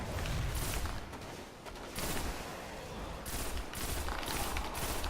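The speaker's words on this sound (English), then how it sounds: "I'm going to chuck a grenade at them" Grenade blast and rapid gunfire in the Destiny video game, with dense bursts of shots coming in waves over a few seconds, loud and sustained with brief lulls between volleys.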